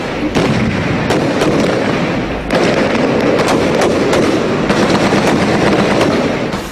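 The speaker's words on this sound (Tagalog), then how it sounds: "Nauwi sa umatigabong barilan ang sonic clearing operations ng tropa ng gobyerno laban sa mga miyembro ng grupong Maute kaninang hapon" Gunfire during a military clearing operation against militants in Marawi City, Philippines: loud, dense bursts of shots and booming reports crackling continuously, with a brief lull midway, no talk.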